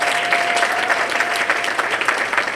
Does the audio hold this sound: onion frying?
no